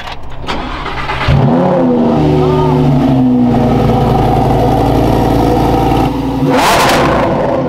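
A Lamborghini Huracán STO, a track-focused supercar, revs loudly up close, its engine note climbing as it accelerates, holding a strong steady roar for several seconds, then a brief sharp burst near the end.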